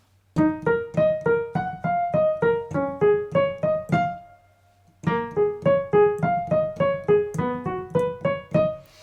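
A solo piano plays a short riff from a pop song, plucked, detached notes in a bouncy rhythm, pausing briefly before the phrase repeats.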